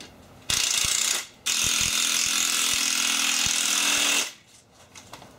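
A power driver screws IKEA motorized bed base parts together, two loud sustained whirring bursts, the first short and the second about three seconds long, close up and with no talk.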